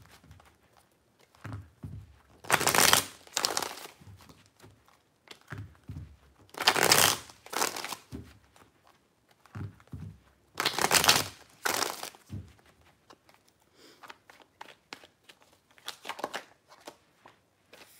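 Tarot cards shuffled by hand in three distinct bursts of dense riffling crackle, each lasting about a second or two, separated by quieter handling sounds and soft paper rustles, close and fairly loud.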